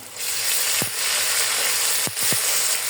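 Ginger garlic paste going into onions frying in hot oil, a loud, steady close sizzle with a few brief scraping stirs of a spoon.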